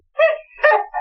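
A dog barks twice in quick succession, close and fairly loud, with a shorter third yap cut off at the end; no talking.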